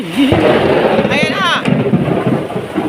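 A deep rumble of thunder rolls under loud talking voices while rain hisses steadily in the background during a flood.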